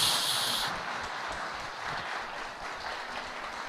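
Sustained applause from a church congregation, steady and dense throughout, with a brighter burst of hissy clapping at the very start.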